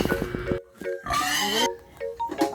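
A large pig grunts and squeals in loud, close bursts while being pushed and weighed ahead of a reunion feast, harsh calls broken by short pauses; there is no speech.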